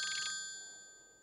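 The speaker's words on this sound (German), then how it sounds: "Plötzlich aber schrillt das Telefon." A telephone rings at a fire station, a short bright electronic ring that cuts off abruptly and fades away, heard alone and fairly close.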